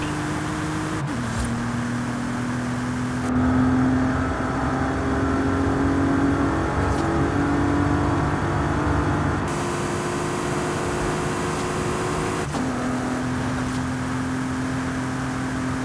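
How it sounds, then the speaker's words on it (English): Bentley Flying Spur with an eight-gear automatic driven through traffic in Forza Horizon 5, its engine droning steadily with gear shifts marked by abrupt pitch drops, loud and close, without speech. "Cutting up traffic in a flying spur is kind of crazy."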